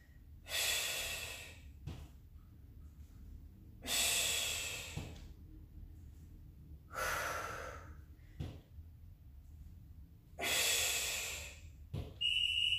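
Heavy forceful exhales during a Tabata workout, four long breathy blasts spaced a few seconds apart, close to the mic, with quieter snorts and gasps between them.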